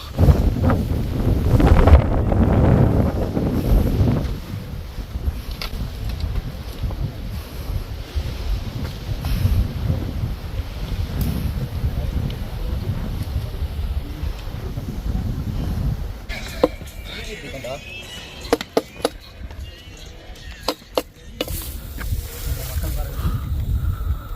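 Strong wind gusts buffet the microphone on a steep hill trek up Vaasimalai, a rough, low roar that runs the whole time, with voices talking over it.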